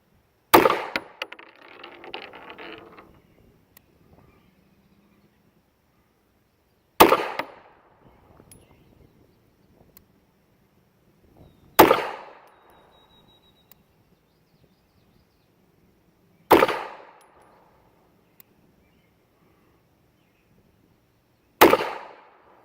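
A High Standard Model G .380 pistol fires at 15 yards: five loud, sharp shots spaced several seconds apart, each with a short ringing decay, and no talking between them.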